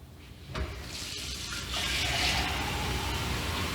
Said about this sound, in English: We're going to fill them both with water,